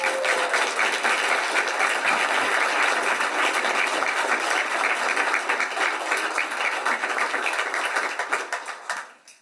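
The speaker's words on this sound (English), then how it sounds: "And if we could get a round of applause." A roomful of people at a city council meeting applaud the retiring Public Works Director, dense steady clapping that carries on for several seconds before tapering off and fading out at the end.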